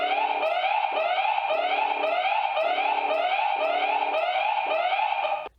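Xiaomi Aqara gateway sounding its alarm siren: a loud, continuous electronic wail that sweeps up and down in a steady repeating cycle for several seconds, close and unbroken, then cuts off abruptly.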